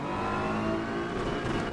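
BMW M4 GT3 race car engine in Assetto Corsa EVO, a steady loud harmonic drone holding at high revs for under two seconds.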